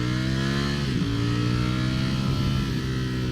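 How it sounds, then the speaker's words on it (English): A 2021 Ducati Streetfighter V4S's loud stock exhaust revs hard and close, its pitch rising and dipping through throttle blips with no talking. "the stock exhaust is loud enough to get people out of your way."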